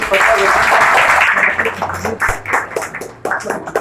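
Audience at a talk on job skills claps for guest speakers, a loud burst of applause that thins into scattered claps while a voice speaks over it.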